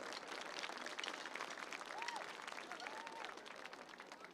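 Crowd applause at a high school football game for homecoming candidates and escorts, a dense, steady outdoor clapping from the stands that is faint and distant, with some cheering mixed in.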